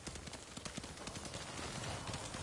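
Horse hooves clip-clopping in the video game Ghost of Tsushima, a quick, even rhythm of soft hoofbeats at a steady trot, fairly faint and continuous with no talking.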